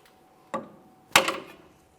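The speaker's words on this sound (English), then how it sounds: "I'm going to tap on the far end of a pry bar with a hammer, breaking this free" Two sharp metallic taps of a hammer on the end of a pry bar, breaking free a steering rack bellows clamp on a Mitsubishi Lancer, the second louder, each with a brief ringing decay, in a quiet space.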